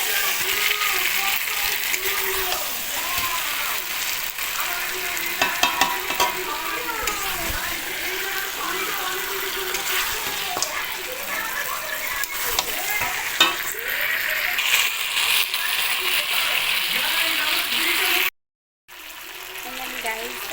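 A dish being stir-fried (koshano) in a pan sizzles steadily, with the scrape and clatter of stirring heard up close throughout, continuing unbroken before a brief drop to silence near the end.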